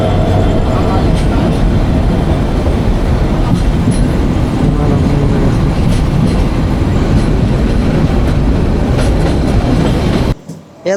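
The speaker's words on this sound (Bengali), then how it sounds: "রাত 12টা 54 অগ্নিবীণা এক্সপ্রেস জয়দেবপুর রেলওয়ে স্টেশনে প্রবেশ করলো।" Agnibina Express train pulling into Joydebpur railway station late at night behind a 3000-series locomotive, a loud, steady rumble and rattle of rolling wagons with faint wheel clatter, continuing without pause before cutting off abruptly.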